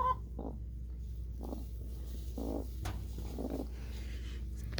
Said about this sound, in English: And we have a buff hen. And she's puffing up on me.